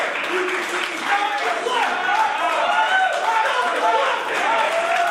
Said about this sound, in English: LeGrand not happy with this Gold Rush crowd clapping and applauding for Royce Isaacs